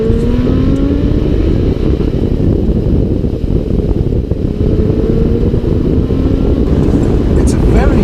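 A compact exotic sports car engine revs with a tuneful, expensive-sounding note, droning steadily and loud under wind buffeting, with faint rising pitch sweeps.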